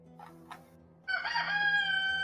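A rooster gives one loud, close crow after a couple of brief, fainter calls.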